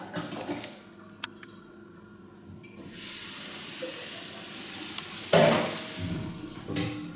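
Cold tap water runs over opened jars of salad, a steady broadband hiss and splash that builds and surges in bursts, with occasional clinks of glass, close by and with no one talking.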